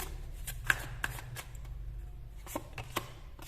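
Tarot cards being shuffled by hand, a dry papery riffle with a few sharp slaps and flicks, close and fairly quiet, with no talk over it.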